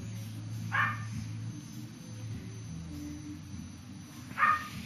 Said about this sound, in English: You hear that doggy out there?